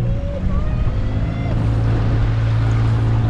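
A steady boat motor hum drones close by on a river in Raja Ampat, with water washing and wind noise, and no one speaks.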